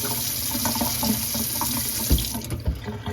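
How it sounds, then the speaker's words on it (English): Cold water runs steadily from a sink faucet during a no-hot-water repair call, a close, loud, continuous rushing stream with a few soft knocks near the end, no talk. "I tried it out, and there's water on the cold side"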